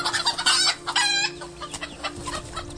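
Roosters at a cockfight cluck and crow close by, giving loud strained calls and a drawn-out crow, followed by quieter scattered clucking against background noise, with no one speaking.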